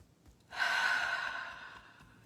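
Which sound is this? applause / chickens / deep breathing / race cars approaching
deep breathing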